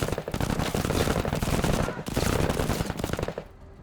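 Rapid gunfire rattles from the tactical video game MENACE, loud, dense bursts of automatic shots filling the scene, a brief pause midway, then another burst before it cuts off.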